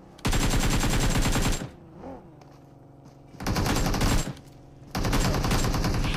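Automatic gunfire sprays loudly in PUBG Mobile, coming in three long sustained bursts of rapid shots separated by quieter gaps.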